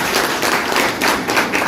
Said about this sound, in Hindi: जोरदार तालियां इस काम के लिए